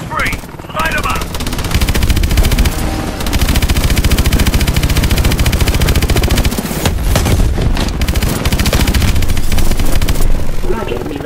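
Sustained rapid machine-gun fire and explosions in the Call of Duty: Advanced Warfare video game, loud and dense throughout with brief pauses, a voice speaking over the battle.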